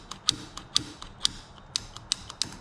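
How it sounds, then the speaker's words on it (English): Throttle on a Yamaha Grizzly 350 4x4 ATV with a new carburetor is worked repeatedly with the engine off, making a close, regular series of sharp mechanical clicks roughly twice a second over a faint background. "Let's go double check the throttle real quick."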